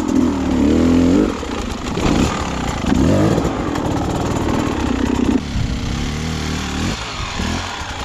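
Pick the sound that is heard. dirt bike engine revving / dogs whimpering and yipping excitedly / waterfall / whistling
dirt bike engine revving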